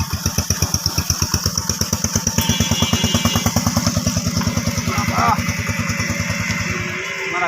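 A motorcycle rides along a badly broken, slippery village road near Maijpara Gorer Hat. Its engine throbs close and steady throughout, with a rapid pulsing beat, and faint voices sit underneath before the engine drops away at the very end.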